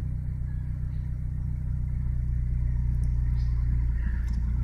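A car engine tuned with FuelTech FT500 fuel injection idles steadily, a low continuous rumble that holds even throughout.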